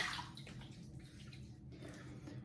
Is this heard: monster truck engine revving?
no